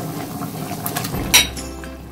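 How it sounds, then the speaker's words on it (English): Smoked fish goes into a pot of boiling Oha soup, giving a soft splash and a sharp clink of a utensil against the pot over a low bubbling simmer. "So yeah, I just added my smoked fish. I'll let it boil together."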